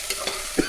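Vegetables hitting hot oil in a pan, a brief close sizzle with a few stirring scrapes over under a second, no voices.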